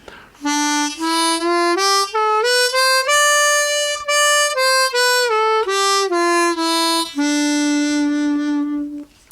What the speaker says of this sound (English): I will play it in D Dorian, because that's third position.